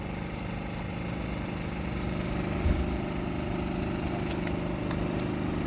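A steady mechanical whine and hum of a 1.3 kW Makita angle grinder running continuously on a generator, over a low engine drone, fairly loud and unbroken throughout.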